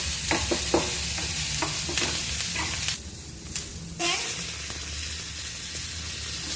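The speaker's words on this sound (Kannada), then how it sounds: "ಆನಿಯನ್ ಹಾಕ್ತಿದ್ದೀನಿ, ಕರಿಬೇವು ಹಾಕ್ತಿದ್ದೀನಿ ಫ್ರೆಂಡ್ಸ್." Chopped onion and curry leaves crackling in hot oil in a pan for a home-cooked chicken dish, with bursts of spattering and stirring clatter, a short quieter gap in the middle, then steady sizzling again.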